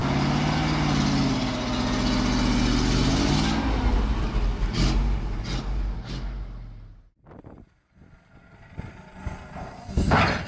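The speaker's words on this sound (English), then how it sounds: "Zil 131 timber truck with full load trying to pull through the snow and mud road." Zil 131 timber truck under full load straining through a snowy, muddy road, a loud close engine drone for several seconds that fades and breaks into scattered knocks and bumps, then rises again.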